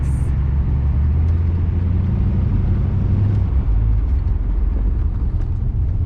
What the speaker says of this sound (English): It's got a nice purr to it. Yeah, the dual exhaust.